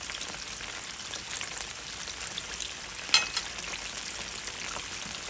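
Spring rolls deep frying in oil, a close, steady bubbling sizzle that holds evenly, with one brief sharper crackle partway through.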